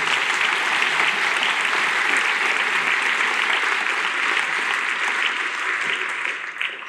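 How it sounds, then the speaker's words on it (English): A school concert band audience applauds, dense continuous clapping from many hands filling the hall at a steady level before tapering slightly at the end. "let's give them a big round of applause"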